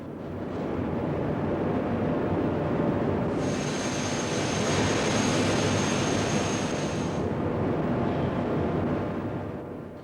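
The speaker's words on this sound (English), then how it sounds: "as the metal is squashed between the rollers" Aluminium sheet being cold worked in a rolling mill makes a loud, continuous industrial roar with a broad rushing hiss. A high steady whine rises for a few seconds midway, and no one speaks.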